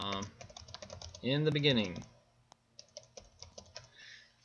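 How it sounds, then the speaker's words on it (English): Rapid clicks on a computer keyboard come in quick bursts, close and fairly quiet. A short spoken phrase interrupts partway through before the typing resumes. "Now I should be ready to start typing."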